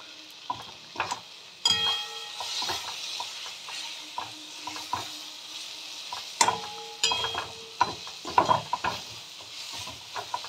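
A utensil stirs leafy greens with kasundi mustard sauce in a frying pan, giving scattered scrapes and knocks over a soft sizzle, close and intermittent with a few sharper clinks.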